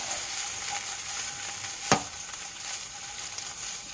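Spicy sausage sizzles and fries steadily in a pan, a continuous close crackle with one brief sharp clatter partway through.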